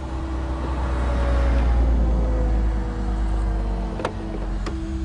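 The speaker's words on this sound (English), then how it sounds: "Got a car coming." Car passing on an evening road, a steady engine and tire rumble that swells and fades without a sharp peak, with a couple of brief clicks near the end.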